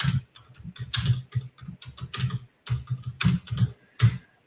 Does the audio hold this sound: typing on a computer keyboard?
yes